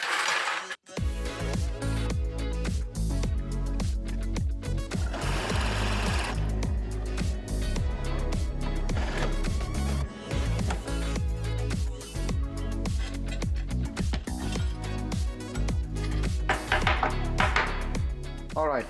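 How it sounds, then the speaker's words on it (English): A power drill bores holes through a metal plate for mounting lights, buzzing loudly and continuously with rattly bursts and short pauses throughout. "now let's drill the holes for the lights"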